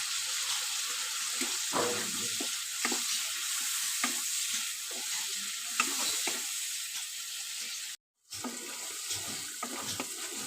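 Cumin powder fries in a pan with a steady soft sizzle, broken by repeated scraping strokes of a stirring spoon and a brief silent gap near the end, with no voices.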